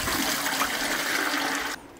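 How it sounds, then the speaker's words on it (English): Water runs steadily and fairly loudly into a bucket as a gallon is added while a tankless water heater flush is prepared, a continuous gushing pour that cuts off abruptly near the end. "Next, you'll add a gallon of water to your bucket."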